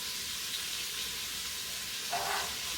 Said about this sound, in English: And I'm gonna add these onions. I want to get a little color on them.